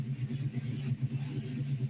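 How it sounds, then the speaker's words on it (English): A low, rumbling vehicle engine drones steadily with a pulsing throb, heard alone from outside at moderate distance. "you can definitely hear that car"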